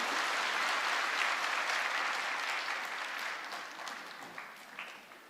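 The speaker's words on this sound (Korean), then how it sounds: "우리 박수로 이 아이를" A church congregation at a Sunday service claps together to bless a baby, producing a steady wash of applause that gradually tapers toward the end, with a few scattered claps standing out.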